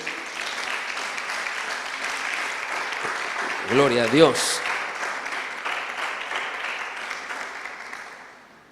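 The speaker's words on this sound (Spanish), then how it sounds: "Denle un aplauso al Señor" A church congregation claps steadily and evenly throughout, with a voice briefly rising above the applause near the middle before the clapping fades out at the end.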